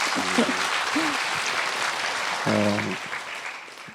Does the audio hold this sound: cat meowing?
no